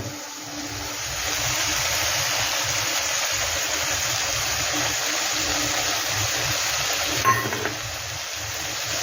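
Water pours steadily into a cooking pot of raw banana and mung dal with poppy-seed paste and Kashmiri chilli powder, a continuous close rushing stream lasting several seconds with a brief clink near the end.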